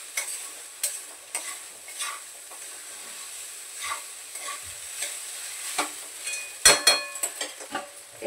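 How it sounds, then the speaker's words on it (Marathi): Potatoes for sabudana khichdi stir-fried over a high gas flame with crushed peanuts and green chilli, a steady sizzle broken by repeated sharp scraping strokes of a spatula against the pan, close and fairly loud, no talking. "फास्ट गॅसवर परतून घेते थोडंसं पटापट"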